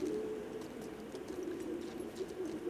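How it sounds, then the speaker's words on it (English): Birds cooing inside The Last of Us Part II game world, a soft low steady coo that keeps repeating over faint background ambience, no speech. "Oh, it's birds."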